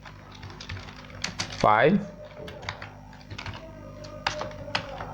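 Typing on a computer keyboard while writing an HTML5 page produces quick clustered key clicks under a person talking, with a brief louder sweep partway through.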